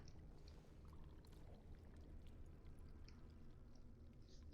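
Water pours steadily into a jug at a pool in the video game Dragon Age: Origins, a faint, continuous splashing trickle with no talking.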